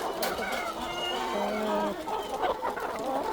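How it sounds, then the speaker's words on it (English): Continuous clucking and calls from a big flock at a chicken farm fill the air, close and steady, with a brief voice briefly audible among the birds. "It's time to go and check the chicken."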